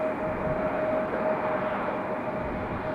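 A Southwest Airlines airliner taxis at Raleigh-Durham airport, giving a steady moderate engine drone with a faint sustained whine, distant and even, with no talking.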